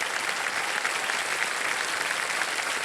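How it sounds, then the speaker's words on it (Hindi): Studio audience applause on the game show Kaun Banega Crorepati season 17: dense, even clapping from a large crowd, sustained at a steady level throughout with no talk over it. "तालियों के साथ उनका अभिनंदन करते हैं"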